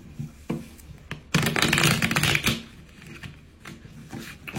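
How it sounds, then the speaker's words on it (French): A deck of playing cards being shuffled: soft riffling taps at first, then a loud, dense burst of flicking cards for about a second, trailing off into lighter handling and taps. "On va bien mélanger le jeu"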